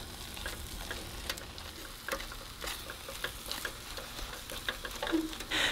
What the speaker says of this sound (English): make sure you keep stirring it as you go because you do not want to burn the filling